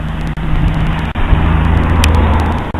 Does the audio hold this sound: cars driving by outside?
yes